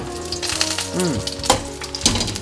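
Close, loud sizzling and crackling of overnight-dried threadfin fish frying in hot oil in a pan, with a few sharper spatters.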